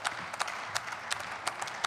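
Scattered clapping from members of the German Bundestag in the plenary chamber, a thin, distant patter of individual claps under room tone.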